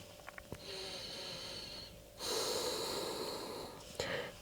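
A yoga practitioner exhales audibly during a full body stretch, a close, breathy rush of air lasting a couple of seconds, followed by another soft breath with no talking.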